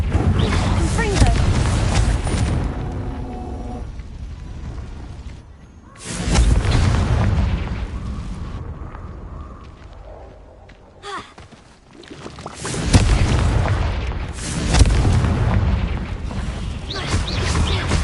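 Confringo blast spells explode in the Hogwarts Legacy game on PS5, with booming bursts in several loud clusters separated by quieter stretches, mixed with voices and game sounds.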